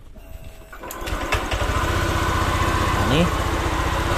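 A small engine starts, then runs loud and close with a steady buzzing drone. Its pitch climbs briefly as it is revved, and someone talks over the running motor.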